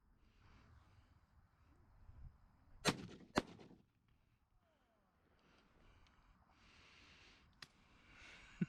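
Shotguns fire during an evening dove hunt in the open, two sharp reports about half a second apart followed later by fainter distant pops, over quiet outdoor ambience with some faint talk.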